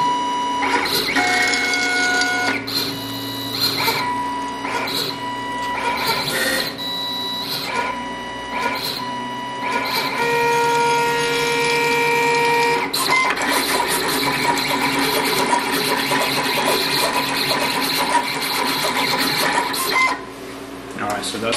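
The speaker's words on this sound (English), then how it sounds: "once you click OK, the cutter will start scanning the registration marks and it's gonna perform the actual contour cut" An XL-24ABJ vinyl cutter scans registration marks and then contour cuts, giving continuous mechanical whirring with tonal motor whines and stepping clicks that shift in pitch throughout, steady and close.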